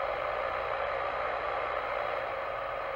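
A restored WW2 US Army SCR-284 radio receiver puts out steady, crackly static, an even broadband hiss with a faint low hum beneath, constant and unbroken.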